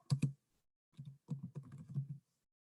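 Computer keyboard typing, close and clear, in a few short bursts of rapid key clicks separated by pauses, with no voices over it.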